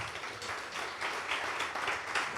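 A church congregation applauding during a sermon, a brief burst of dense clapping from many hands at moderate distance, fairly even with no speech over it.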